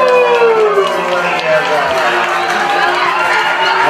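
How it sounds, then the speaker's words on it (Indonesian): Applause from the crowd at a neighbourhood community awards night, celebrating an RT-level badminton competition. A dense, steady wash of clapping runs throughout, with a speaker's voice carrying over it. "Tepuk tangan untuk"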